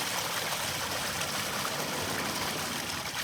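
Sewage water trickling and splashing steadily into a freshly dug reservoir during a sewer repair, a constant close hiss of running water with no speech.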